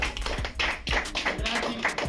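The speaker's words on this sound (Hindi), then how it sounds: "जोरदार तालियां" A handful of sharp claps in a loose rhythm at an LIC employees' Constitution Day gathering, greeting a senior leader, with a voice speaking over them.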